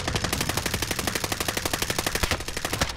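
Rapid automatic gunfire from a video game shootout, a steady loud burst of evenly spaced shots running for about three seconds with no pauses.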